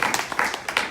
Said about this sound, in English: So I will give a round of applause for that.